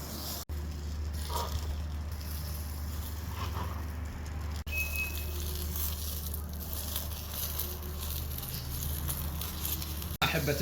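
Kebab meat grilling over charcoal gives a steady, dense crackling sizzle that runs evenly throughout at moderate loudness.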